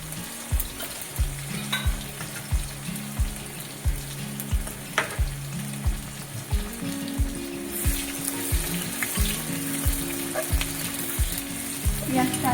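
Onions fry in oil with panch phoron, giving a loud, constant sizzle broken by regular, rhythmic scraping strokes of a spatula in the pan.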